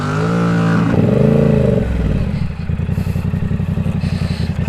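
Close, loud Yamaha R7 motorcycle revving that drops off into a lumpy idle, the engine's rapid pulsing echoing off a nearby wall.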